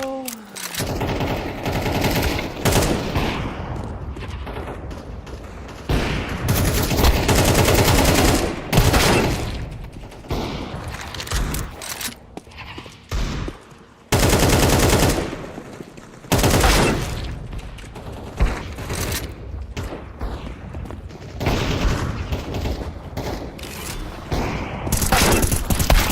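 FAMAS rifle fire in a video game, many rapid mechanical bursts of gunfire repeating through the whole stretch, loud and close, with brief pauses between strings.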